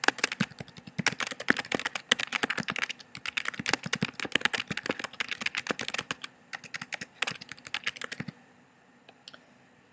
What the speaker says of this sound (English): I'm just going to type something so that I have something to work with.